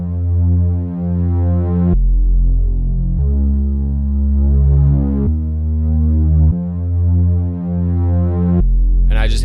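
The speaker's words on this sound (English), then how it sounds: "It is the Growler Moog bass preset from Omnisphere" A deep, growling synth sub bass, the Growler Moog bass preset from Omnisphere, plays long sustained notes that change pitch every couple of seconds. It is loud, thick and buzzing, heard alone with a short brighter sound at the end.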